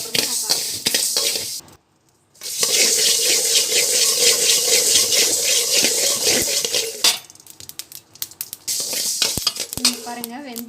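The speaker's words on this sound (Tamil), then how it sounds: "இந்த மாதிரி பொரியிற சத்தம் கேட்கும்போது இதை எடுத்து கொட்டிடுங்க" Fenugreek seeds roasting in a pan, a dense, loud crackling sizzle after a brief pause, then sparser pops and scraping clinks as the seeds are tipped out.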